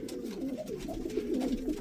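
Soft, low pigeon cooing repeats in gentle warbling phrases, close by and fairly quiet.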